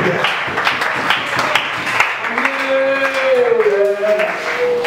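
A church congregation applauding, dense continuous clapping close by and fairly loud, with voices calling out and a sustained tone rising underneath in the second half.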